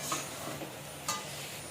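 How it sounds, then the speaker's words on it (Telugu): Freshly pounded ginger garlic paste is stirred in a pan for soya chunk biryani, with two sharp scraping strokes over a faint sizzle. "ఫ్రెష్గా దంచిన అల్లం వెల్లుల్లి పేస్ట్ వేసుకుందాం. కలుపుకుందాం."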